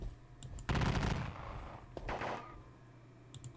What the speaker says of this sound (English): Lose 7 men to a volley.